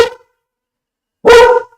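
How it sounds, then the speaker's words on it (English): A dog barks twice, loud and close: a brief clipped bark, a pause of about a second, then a fuller bark. "He decides to bark because there's something he hears."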